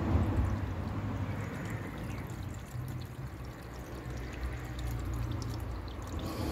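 Coolant pours steadily into the cooling system of a K-series engine, a continuous liquid gush with a low bubbling rumble that stays even and close throughout, with no talk.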